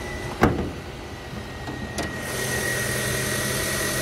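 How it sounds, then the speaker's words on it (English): A 2004 Honda CR-V EX's VTEC engine idles under an open hood, a steady low hum after a couple of sharp clicks near the start, growing slightly brighter and louder toward the end. "Honda VTEC motor. Sounds good, runs well."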